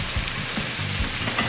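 Angel hair pasta tossed into a pan of sizzling smoked eggplant pomodoro gives a steady, close frying hiss with a few soft stirring knocks underneath.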